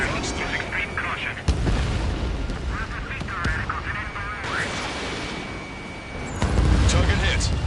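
Missile launches and explosions in the Ace Combat 7 flight combat game rumble as dense, repeated booms and blasts beneath radio chatter, with heavier bursts near the start and end.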